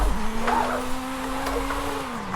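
A car drifting in Forza Horizon 5 with a sustained, steady tyre squeal holding one pitch and dipping at the end, over a low engine rumble, no talking.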